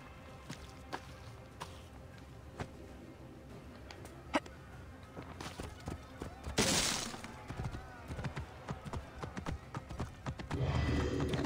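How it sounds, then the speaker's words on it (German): Hooves of a horse galloping in the video game Assassin's Creed Origins clatter in an irregular rhythm, growing busier and louder toward the end, with scattered clicks and a brief burst of noise partway through. "Da ist ein Pferd, wunderbar."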